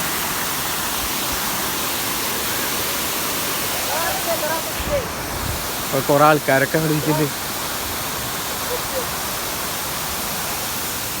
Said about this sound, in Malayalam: അപ്പം ഇതാണ് വെള്ളച്ചാട്ടം കേട്ടോ.